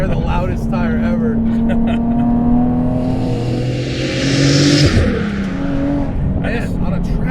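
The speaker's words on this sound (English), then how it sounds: "the car's loud enough that I can't hear how loud your 888s are" A loud 430 WHP supercharged Nissan 370Z on 888 tires driving hard, its engine droning and rising and falling through revs from inside the cabin, with a voice talking over it.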